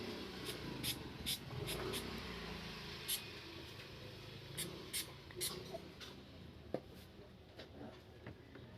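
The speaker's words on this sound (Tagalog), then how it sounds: "So spray natin ang WD-40." WD-40 lubricant sprayed from an aerosol can onto a part of a Fujidenzo automatic washing machine, heard as several short hissing bursts over a faint background, with a person talking quietly at times.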